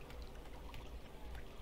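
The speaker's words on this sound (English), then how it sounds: "Right, if I jump, I create waves." Water sloshing and splashing as a character jumps in Rain World, a steady broadband wash of small waves with brief bright splashy bursts throughout, fairly quiet.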